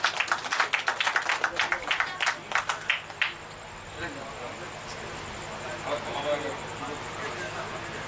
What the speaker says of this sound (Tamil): நல்ல ஒரு உற்சாகமான கைத்தட்டல்.